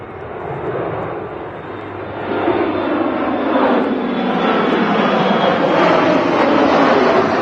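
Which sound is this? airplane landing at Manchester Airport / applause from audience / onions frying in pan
airplane landing at Manchester Airport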